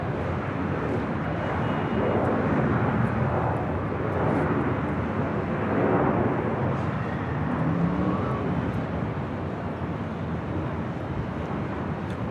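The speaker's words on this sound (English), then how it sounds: "That is a 787-8 Dreamliner." Steady, even jet roar from an American Airlines Boeing 787-8 Dreamliner on short final at Los Angeles International Airport, held at moderate distance with no breaks.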